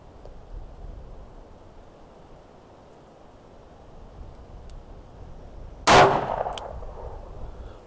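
A Smith and Wesson Performance Center Pro Series revolver fires a single 158 grain round outdoors at a range, one sharp loud report with a brief tail, preceded by quiet wind-like background.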